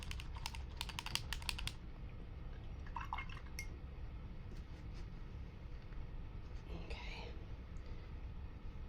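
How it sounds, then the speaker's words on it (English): Acrylic paintbrush being washed in a water jar, a burst of rapid clinking taps against glass early on, then softer scattered swishes and drips, close and quiet. "And I'm going to wash my brush."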